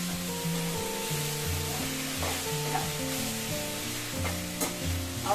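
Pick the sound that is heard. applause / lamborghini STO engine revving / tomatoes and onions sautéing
tomatoes and onions sautéing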